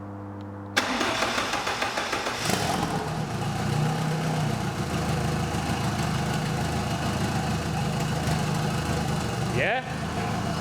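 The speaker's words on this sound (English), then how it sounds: "We're now just going to start the engine up with the plugs in" An engine cranks and catches, then settles into a loud, steady idle that continues to the end, with a brief voice over it, on its first start after rebuilding with plugs and injectors fitted.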